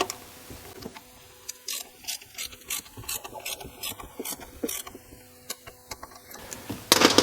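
A hand ratchet clicks steadily as a bolt is snugged down on a 2013 BMW 535i engine's cylinder head, giving a quick series of close, crisp ratchet pawl ticks in uneven bursts, with a louder clatter at the end.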